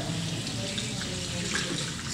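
Lukewarm tap water streams steadily from a salon sink faucet while hair is rinsed, a close, dense and even hiss that runs unbroken without any talking.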